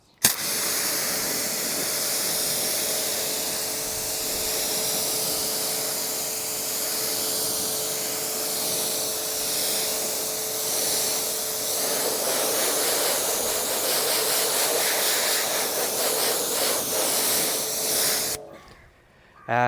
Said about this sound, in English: one could say the pressure washer did a lot of work there